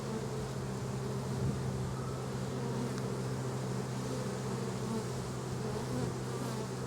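Honeybees hum loudly and continuously around an open beehive during an inspection, a close, dense, unbroken buzz with steady pitch and no voices.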